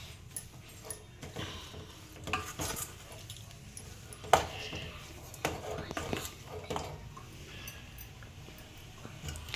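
Potato kurma is stirred in a pan, with scattered scraping and clinking of a spoon against the metal, soft and irregular, mixed with quiet background noise.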